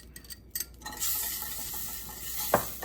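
Chopped onion hits melted light butter over medium heat and sizzles up into a bright, steady hiss, with a few close spoon scrapes as it is stirred.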